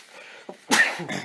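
One sharp, loud sneeze bursting out after a small preparatory inhale, close to the microphone in an otherwise quiet room.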